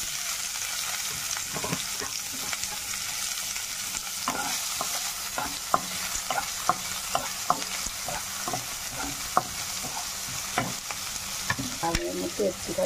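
Onion fries in oil with panch phoron in a pan, a steady sizzle punctuated by repeated scraping stirs of a spatula at an irregular rhythm, close and moderately loud.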